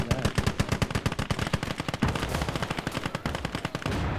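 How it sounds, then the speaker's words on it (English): Gunfire in the video game Gates of Hell, including an 82 mm mortar: a rapid, steady stream of sharp, loud automatic shots continuing for about four seconds without pause. "How did that one mortar explode that?"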